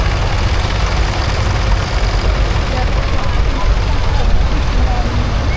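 Vintage American tractor engine idling at a steam rally tractor parade, a loud steady low rumble throughout with no pauses.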